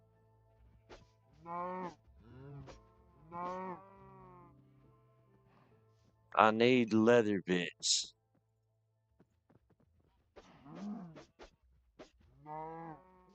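Cattle in a video game moo several times, loud and close: a few separate lowing calls, a dense burst of overlapping moos near the middle, then more calls toward the end, with a person speaking once between them.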